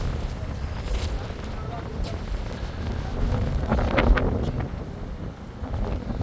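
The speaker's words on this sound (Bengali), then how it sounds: "তো এটা হলো মতলবের জহিরাবাদ লঞ্চ ঘাট" Outdoor ambience at Zahirabad launch ghat, a river boat terminal in Matlab, Chandpur, with a steady wash of boat engine rumble, water and wind buffeting the microphone, and faint voices in the background.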